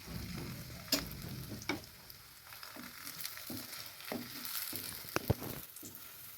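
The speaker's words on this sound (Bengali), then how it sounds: "এবার আমি পরোটাটা দিয়ে দিলাম।" Chhana paratha, a cottage-cheese flatbread, fries in a little oil on a nonstick pan: a soft, steady sizzle with a few sharp clicks and scrapes from a utensil against the pan.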